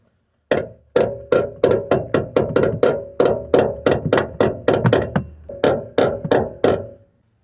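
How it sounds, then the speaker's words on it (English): Hammer blows on the bent metal of a Toyota Sienna door, about twenty sharp strikes in a steady, slightly uneven rhythm, loud and close with no talking. "I'm gonna be hitting it just to the inside here a little bit, just stepping it, because it's kind of bent out"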